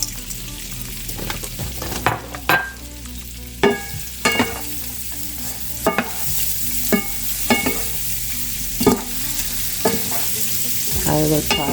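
Dry vermicelli with cinnamon, clove and cardamom fries in butter in a pan, a steady sizzle broken by repeated scraping knocks of a spoon stirring, close and loud with no talk.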